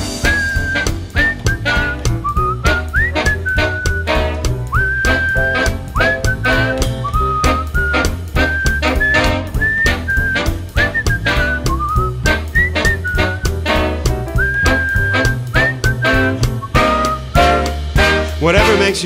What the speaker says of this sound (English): Whistle solo.